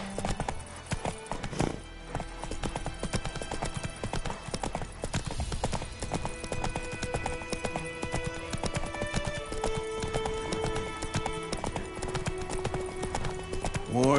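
A horse gallops in a video game with a fast, continuous clip-clop of hooves and a brief whinny near the start, set against a busy game soundtrack.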